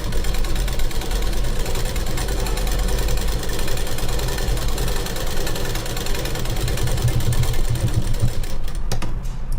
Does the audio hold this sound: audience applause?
no